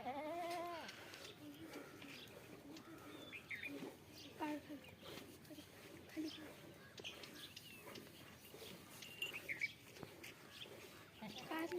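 Faint bleats from a goat that has just given birth, a clear one at the start and a few softer ones after, with quiet voices.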